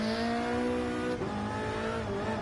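A racing car engine in the video game Gran Turismo Sport holds a steady high whine while sports hard tyres scrub and squeal as the car slides, the pitch dipping briefly midway.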